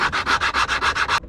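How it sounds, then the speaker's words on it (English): Rhythmic sanding of wood on a wooden boat's bulkhead, about eight steady back-and-forth rasping strokes, close and fairly loud, ending abruptly. "a little bit of sanding"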